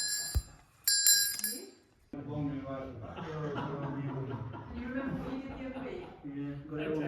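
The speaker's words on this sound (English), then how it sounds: "the bells are rung by moving them from their usual upside-down position" Bells rung by swinging them from their usual upside-down position: two short bursts of bright, sustained ringing tones at the start, then a pause and someone speaking.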